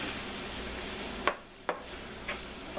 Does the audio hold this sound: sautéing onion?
yes